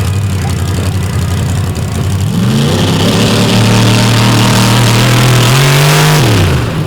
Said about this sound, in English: 864 cubic inch rear and Morrison power plant with a 4-stage nitrous system